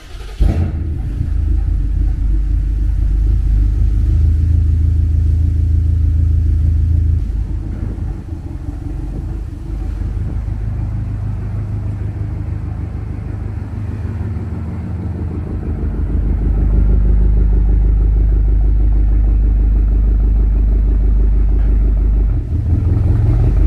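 A BMW car fitted with an under-hood ice tank, its engine held at full throttle in a loud, steady drone with a deep low rumble, easing slightly midway before swelling again near the end.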